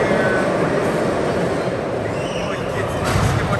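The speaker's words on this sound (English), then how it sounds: "I think that's a train that just goes through the whole park." Indoor theme park ride train rumbling past at close range, a steady dense roar with a voice talking over it.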